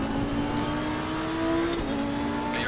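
A race car engine in a racing video game drones at steady revs while the car loses traction, with a brief high squeal near the end and no talking.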